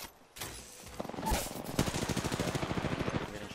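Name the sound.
gunfire in the video game Apex Legends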